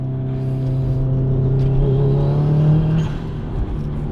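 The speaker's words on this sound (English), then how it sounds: "That noise when the turbo spools up." Subaru Impreza blobeye turbo engine accelerating from inside the car, a loud steady drone whose tones climb gradually as the turbo spools, then ease off near the end, with no talking.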